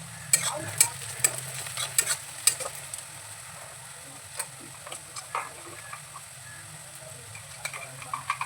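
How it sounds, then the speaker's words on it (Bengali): Chopped onions, two medium ones, frying in a pan for a spicy Dak Bungalow chicken curry, a soft steady sizzle broken by sharp, irregular clicks and scrapes of a spoon stirring, heard up close. "এবার দিয়ে দিচ্ছি পেঁয়াজ কুচি।"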